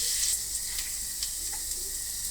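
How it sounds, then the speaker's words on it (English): Onions with cumin and crushed coriander seeds frying in a pan, a steady bright sizzle close up, with occasional soft stirring scrapes over the continuous hiss. "Fry it until it becomes translucent"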